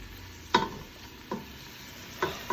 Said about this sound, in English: Come on, keep stirring.